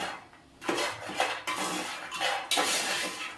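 A spoon scrapes and stirs through makhana fry masala in a pan, producing continuous close metallic scraping in several overlapping sweeps with no talking.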